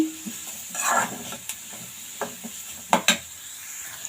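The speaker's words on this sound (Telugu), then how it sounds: "క్యారెట్ పచ్చిమిర్చి ఇవి మనం స్టవ్ హై ఫ్లేమ్లో పెట్టుకుని బాగా రోస్ట్ చేసుకోవాలి" Carrots and green chillies roasting in a pan on a high flame, a steady sizzle broken by several sharp scrapes and clinks of a spatula against the pan.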